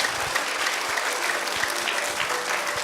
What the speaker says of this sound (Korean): 우리 다시 한번 1년 동안 수고한 우리 1, 2부 연합성가대 뜨거운 박수 한번 부탁드립니다